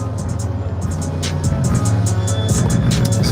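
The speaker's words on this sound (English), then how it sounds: "just blasting some beats I made." Self-made hip hop beats blasting inside a car, heavy low bass pulses and rhythmic hits filling the cabin, steady and loud, no talk over them.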